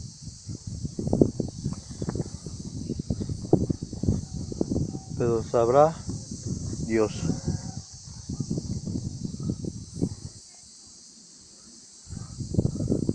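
Cicadas on a hillside keep up a steady, high, shimmering drone that never breaks, heard over nearby talking, footsteps and rustling.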